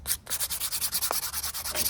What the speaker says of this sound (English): I use a lot of sanding paper so that when something is scratched up, I can grab it